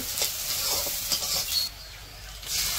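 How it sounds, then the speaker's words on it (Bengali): Close sizzling of onions frying in hot oil in a wok, with a few scraping stirs, the hiss briefly dropping away before returning strongly. "পেঁয়াজ একটু ভাজা নিচ্ছে"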